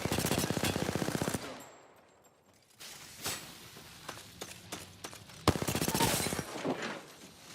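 Rapid automatic gunfire from an Apex Legends match rattles in loud sustained bursts, broken by a short quieter lull before the shooting resumes, with no talk.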